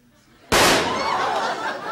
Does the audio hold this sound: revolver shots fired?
yes